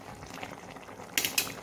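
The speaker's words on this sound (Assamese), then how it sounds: "এতিয়া আমি এইখিনি গোটেই এবাৰ লৰাই দি কিছু সময় আৰু বইল হ'বলৈ দিম" Fish with greens simmers in a pot, giving a soft bubbling murmur, then two sharp, bright clatters from a utensil close by near the end.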